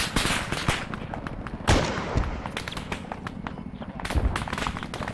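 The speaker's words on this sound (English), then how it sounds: "any chance we can get Reaper to try and get eyes on this fucking artillery hitting us" Explosions and gunfire in the ArmA 3 combat game, with incoming artillery among them: a dense, steady barrage of sharp cracks and heavier booms, including a large blast near the midpoint, with speech mixed faintly into the battle noise.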